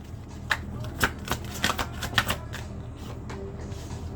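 Tarot cards shuffled by hand during a reading, a series of crisp riffling bursts, close and fairly quiet, repeating irregularly about every half second.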